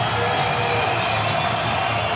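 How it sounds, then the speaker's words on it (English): A football crowd at an indoor arena game between Dodge City Law and Texas Revolution cheers steadily and loudly as fans rise to their feet, a dense sustained roar with scattered shouts and whoops. "Crowd gets to their feet."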